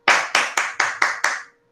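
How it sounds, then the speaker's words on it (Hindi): Clapping to welcome a trainer at a Teachers' Day event: six sharp, evenly spaced claps, close and clear, each ringing briefly before the next, then fading to silence. "स्वागत हम तालियों के साथ करेंगे।"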